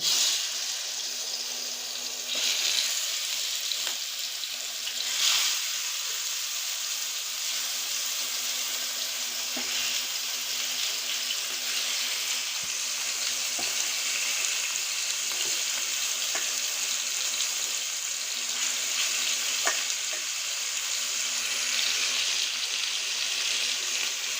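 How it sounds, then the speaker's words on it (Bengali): Chicken pieces fry in a hot frying pan with a steady, close, bright sizzle that runs throughout, with occasional faint clinks and stirring noises. "মাংসর যে কাঁচা গন্ধটা থাকে ওটা চলে যাবে তার জন্য মাংসটা এখন ভেজে নিচ্ছি"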